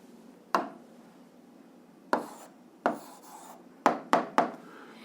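Pen or marker strokes on paper or a board while an answer is written out by hand in an 8th-grade physics exercise: six short scratchy taps and strokes with gaps between them, close and fairly quiet, no talking.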